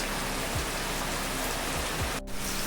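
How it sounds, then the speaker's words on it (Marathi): Heavy monsoon rain in Devgad, Konkan, a dense, even hiss of rainfall pouring steadily onto surfaces nearby, continuous and unbroken apart from a brief dip near the end, with no voices. "पाऊस काही कमी होणारच नाही आज"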